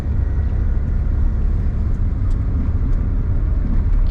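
Steady low engine rumble and road noise inside a Suzuki Alto Works turbocharged kei car while driving, constant and loud from start to end, no talking.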